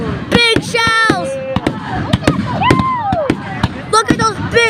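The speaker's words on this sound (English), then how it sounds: "Look at those big shell fireworks!" Big aerial shell fireworks over Pounawea burst in a rapid series of sharp, loud booms and crackles, close by, while excited voices shout and exclaim over the blasts.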